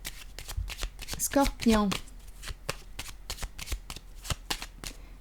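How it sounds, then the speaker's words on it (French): Tarot cards riffle-shuffled and set down on a table during a Scorpio reading, a brief crisp flurry of shuffling near the middle amid soft handling clicks, with someone talking throughout. "Je vais déposer une carte sur la femme."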